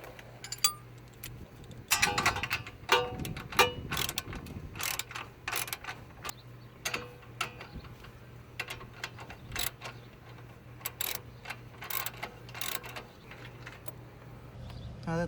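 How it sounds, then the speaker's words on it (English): Ratchet tightening strut bolts on a 2014 Chevy Impala during a wheel bearing job, a steady run of close, crisp clicking in uneven bursts over a low hum, with no talking. "Okay, from here we're going to go ahead and tighten up the strut bolts again."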